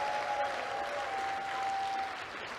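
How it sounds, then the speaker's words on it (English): Audience applause fills a Wikimania 2023 opening ceremony hall, a steady, dense wash of many hands clapping throughout with a faint sustained tone running beneath it. "A huge round of applause, please, for the Wikimania 2023 core organizing team."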